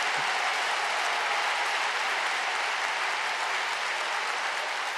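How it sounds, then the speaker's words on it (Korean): Applause from a large congregation at an Easter church service in Seoul's Yeouido Full Gospel Church, a dense, loud, continuous clapping that fills the whole clip without any voices. "이때 박수를 치는 겁니다"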